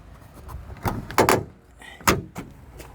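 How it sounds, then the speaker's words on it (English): The rear door latch of a 2006 Ford F350 is pushed open by hand, giving a short series of close, sharp mechanical clicks and clunks with quiet pauses between them. "Then I push on this."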